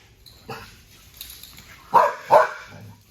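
A dog in bite work training gives two sharp, loud barks in quick succession after a few quieter yips and shuffling sounds.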